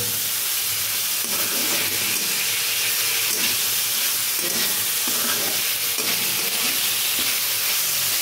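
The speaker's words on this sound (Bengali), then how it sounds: "আপনারা মাছটা কিন্তু ভালো করে ভেজে নেবেন এইভাবে।" Dried kachki fish fry hard in oil in a pan with onion greens, giving a steady, close, even sizzle with occasional stirring scrapes throughout.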